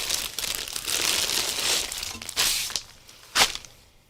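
A crinkly plastic bag of craft trims is rummaged through up close, giving a continuous rustling crinkle with a few sharper crackles near the end.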